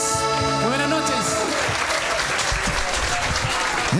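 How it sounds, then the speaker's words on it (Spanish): Audience applause at a Noche de San Juan celebration in Chiloé follows an accordion performance. The clapping is loud and steady, with music fading out at the start and a faint voice beneath. "un gran aplauso para Enrique Millán y su acordeón."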